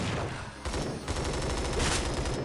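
An MG4 machine gun in the mobile shooter Bullet Force firing in long, loud, rapid bursts, close up and nearly continuous with one brief pause, with no speech.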